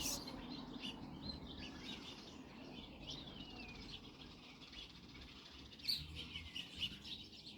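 Small birds chirp back and forth near a growing baby bird, faint scattered tweets and short calls over a low outdoor background, with a couple of louder chirps toward the end.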